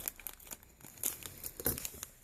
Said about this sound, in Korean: 먼저 이 가루를 뜯어볼게요